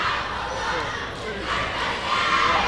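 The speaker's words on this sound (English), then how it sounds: "Crosby Bulldog crowd getting wild" Crowd of Crosby Bulldogs fans cheering at a high school basketball game, a steady, broad roar of noise swelling slightly toward the end, with a voice talking over it.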